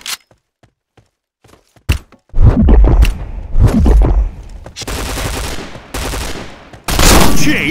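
Rapid bursts of MP7 submachine gun fire in the shooter game Point Blank, loud and close, with dense automatic volleys, sharp single shots and thumping impacts, ending in another heavy burst.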